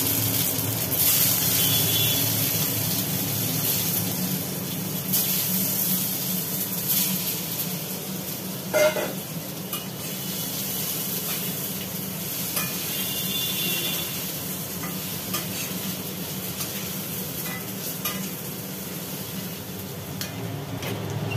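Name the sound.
potatoes frying and being stirred in oil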